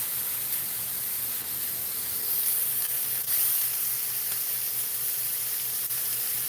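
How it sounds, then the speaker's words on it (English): Tofu scramble frying in a cast iron pan, a constant close hiss and sizzle that holds steady throughout, with no talking. "I've never cooked tofu scramble in a cast iron pan."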